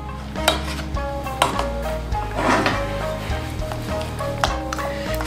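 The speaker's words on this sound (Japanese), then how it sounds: "結構ね、鍋底にひっついてるので、この端っこの方でガリガリやっておきましょう。" Spoon scraping the bottom of a pot of cooking peanut-and-kudzu-starch tofu mixture over medium heat, with repeated close clacks and scrapes at an uneven rhythm over a constant low background.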